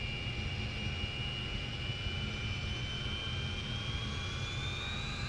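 Tupolev Tu-16 Badger swept-wing jet bomber in X-Plane simulation, coming in to land: a steady, loud jet engine roar with a faint rising whine, continuous and unchanging throughout, no voices.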